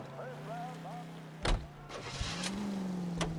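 In the video game L.A. Noire, a police car engine cranks and catches, then settles into a steady idle hum, with a door thump and clicks around it and someone talking over the start.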